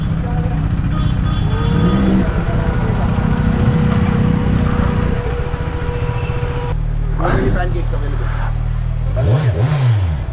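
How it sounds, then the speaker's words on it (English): A triple-cylinder motorcycle engine revs loudly and close by on a street, holding a steady roar before rising and falling in quick throttle blips near the end. "It sounds damn good, that bike though. Yeah, its triples always sound good."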